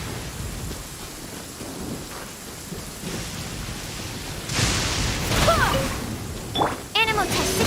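Steady rain patters throughout in Genshin Impact, then rumbling thunder crashes in loudly toward the end, with a few sharp chirping or creaking sounds over the storm.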